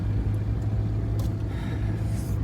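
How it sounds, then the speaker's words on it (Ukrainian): A military vehicle in Ukraine rumbles with a low, steady engine drone as it drives off to a new position, heard close and continuous with no talk. "Загрузились і їдемо на нову позицію."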